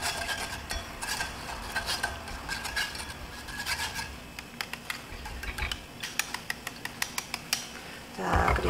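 Miso paste pressed and stirred through a sieve into dashi broth for Korean-style Japanese miso soup, a continuous close scraping and swishing with light metallic ticks and taps, busier toward the end.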